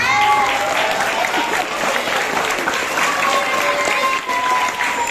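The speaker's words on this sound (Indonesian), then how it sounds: "Untuk SDIT tepuk tangan." An audience applauds SDIT students at an Islamic talk, dense continuous clapping from a crowd with some voices and cheers mixed in, loud and sustained throughout.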